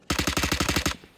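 A rapid burst of automatic gunfire in the video game Valorant, about a dozen sharp evenly spaced shots, loud and close, ending abruptly with a short tail.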